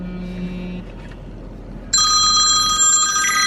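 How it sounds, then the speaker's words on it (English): A telephone ringing with an incoming call: a steady electronic ring tone, then a louder, brighter multi-tone ring that sounds continuously and close, over a low hum from a car in a parking lot, with no talk. "Phone call."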